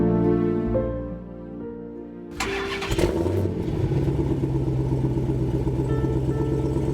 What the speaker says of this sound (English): He puts the car in gear, pulls out slowly.